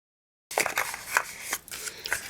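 Scored designer series paper being fan folded into a card: crisp, close crinkles and creases in quick bursts after a short silence.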